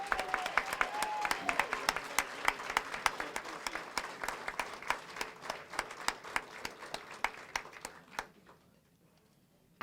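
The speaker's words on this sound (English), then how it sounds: "Let's give them a big round of applause." A banquet audience claps for award recipients in a sustained round of applause with distinct sharp individual claps standing out, a few faint voices mixed in, thinning and fading to near silence by the end.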